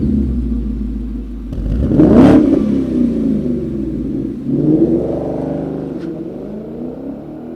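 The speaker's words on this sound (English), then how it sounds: "the touring's got a much deeper tone than stock, a little bit louder and significantly deeper" A Ford Mustang GT fitted with a Borla touring exhaust starts with a sharp, loud rev and drops to a deep, heavy rumble, then revs again as it drives off nearby, with no talk.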